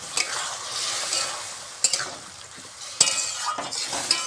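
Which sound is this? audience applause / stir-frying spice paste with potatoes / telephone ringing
stir-frying spice paste with potatoes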